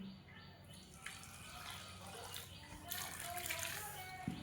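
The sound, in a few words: warm water poured little by little into dough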